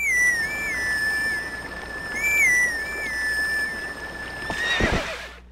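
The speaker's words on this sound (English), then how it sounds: "Could you use a piece of grass to play the song for me?" In The Legend of Zelda: Twilight Princess HD, a thin, reedy grass whistle plays a short wavering melody, then a horse whinnies loudly near the end.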